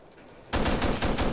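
Rifle fire in the Ghost Recon Future Soldier beta erupts after a short quiet stretch as a loud, rapid burst of evenly spaced shots that continues to the end.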